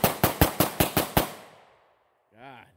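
Seven sharp gunshots crack in a quick even string at an outdoor shooting range, each loud and close with a short echo, then silence before a voice speaks briefly.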